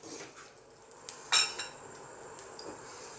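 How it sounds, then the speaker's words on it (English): Cooked lamb pieces for an Indian chilli dry fry being moved from a pan into a separate bowl: scraping and clinking of a utensil against metal and crockery, with one sharp clatter midway, fairly quiet overall. "So I'm going to just remove this into a separate bowl"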